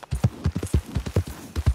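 A horse's hooves clip-clop in Red Dead Redemption 2, a brisk, even run of loud, close hoofbeats with no voices.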